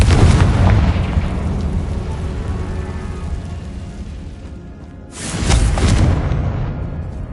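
Confringo fire spell explosions in Hogwarts Legacy, two heavy booming blasts, one at the start and another near the end, each with a long rumbling fade between them.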